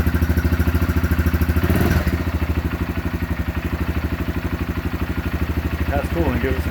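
A Honda CRF125F dirt bike engine runs loud and close, its steady pulsing idle rising into a revving surge, with a voice speaking briefly near the end.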